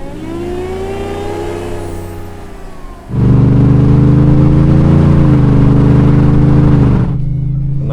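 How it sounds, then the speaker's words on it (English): A supercharged Ford F-150 race truck, a Hennessey Venom 800, idles with a low hum, then its engine surges into a loud, sustained rev as the throttle is gently rolled in while warming up, before easing back off. "we'll just kind of just roll in the throttle just like gently"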